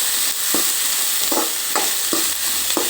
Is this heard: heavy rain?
no